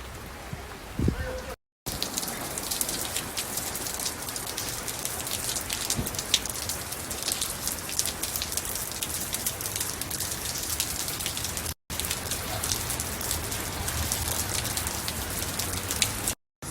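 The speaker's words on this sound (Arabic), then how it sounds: "المطر يغسل راسك." Steady, dense rain falls outdoors, a continuous close hiss that fills the whole stretch with only two brief dropouts and no talking.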